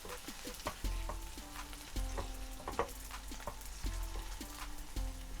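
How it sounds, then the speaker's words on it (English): Finely diced onions frying in oil in a pan for a tomato-free restaurant-style vindaloo, a steady close sizzle broken by repeated clinks and scrapes of a spoon stirring against the pan. "in your pan, add the oil and finely diced onions and cook on low to medium until the onions have softened and begun to caramelise, stirring frequently"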